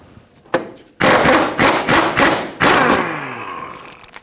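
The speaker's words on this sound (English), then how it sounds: "It's normal for the rear axle to drop down a little bit." A 2012-2019 Fiat 500 rear axle settles after the upper shock absorber bolt is removed, with a few heavy, close metallic thuds and clunks in quick succession, each ringing briefly before fading into quiet.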